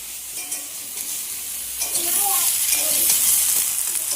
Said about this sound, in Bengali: এগুলো হালকা করে আগে কষে নিতে হবে, তাই তো?